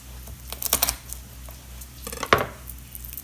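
Knife chopping up vegetables on a cutting board for chanterelle stuffing, a few quick taps near 0.7 s and a sharper cut near 2.3 s, close and fairly quiet with no talking.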